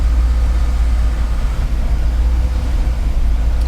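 Idling engine of a GMC Yukon low on gas, a steady, loud, low rumble close by that holds an even pulse throughout without revving or speech.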